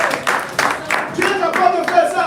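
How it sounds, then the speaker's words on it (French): A church congregation claps in several bursts of applause during a sermon, sharp and fairly close, with a preacher's voice running over and between the claps. "On applaudit le Seigneur."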